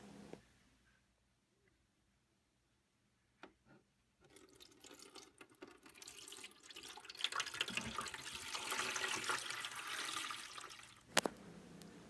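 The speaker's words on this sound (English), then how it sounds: "Now it's time to fill our pool with water." Water gushing from a tap or hose into a toy pool, starting after a quiet pause and building into a steady, loud rushing pour that swells over several seconds before a brief splash and a sudden stop.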